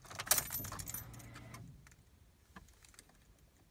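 Keys jangle and turn in the ignition of a Ford Fiesta Mk6, a sharp metallic rattle up close in the first second and a half, then a quiet interior with faint clicks.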